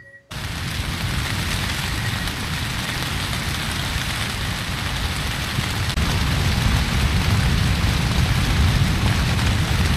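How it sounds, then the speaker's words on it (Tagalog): Heavy rain roars continuously with a deep rumbling undertone of strong gusting wind at a campsite cottage in Real, Quezon, Philippines, growing slightly louder partway through. "Sobrang lakas ng hangin tas umuulan pa."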